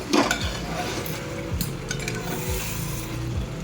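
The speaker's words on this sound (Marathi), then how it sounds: "तर त्याच्यामध्ये पाणी ऍड करते. जे आपण गरम केलेलं पाणी होतं तेच टाकलेलं मी." Heated water poured into spiced rice in a pressure cooker for quick cooker biryani, with metal spoon scrapes and clinks against the pot under a steady sizzle, close and without voices.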